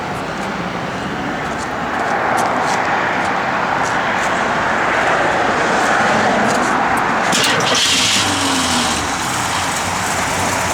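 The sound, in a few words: 1973 AMC Javelin driving on the road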